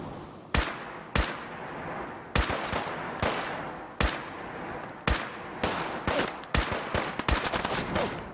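Bursts of gunfire in Fallout 4 crack out sharply, about a dozen loud shots spaced irregularly over several seconds, each with a short echoing tail.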